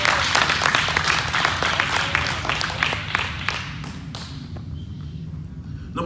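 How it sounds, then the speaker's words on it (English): A church congregation gives a hand clap of praise during a Sunday sermon: loud, dense clapping that fades off over several seconds into scattered claps, close and lively. "y'all give her a hand clap of praise"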